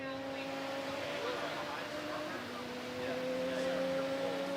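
A race car at a speed festival accelerates along a racetrack's back straight, a steady engine whine that rises in pitch at a distance beneath a commentator talking.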